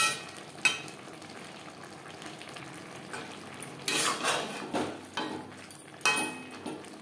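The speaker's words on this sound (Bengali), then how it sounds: "শাকের সাথে বেশ ভালো করে মিক্সড করে দেবো। আরও 2-3 মিনিট হাই ফ্লেমে রান্না করব" Greens with green chillies cooking on a high flame in a pan, a soft continuous sizzle punctuated by several louder bursts of stirring and scraping, with a sharp clink near the start.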